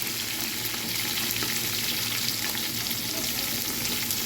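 A steady, close sizzle of onions, cashews, cinnamon, cloves and curry leaves frying in ghee for ghee rice continues unbroken, with no voices.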